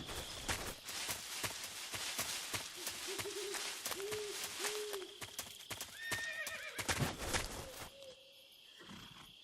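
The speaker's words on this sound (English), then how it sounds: "Did I hear a horse?" A saddled horse in Metal Gear Solid 3 whinnies in a rising, wavering neigh amid rapid clip-clopping hooves and clattering thuds, fairly close and loud, with no talking.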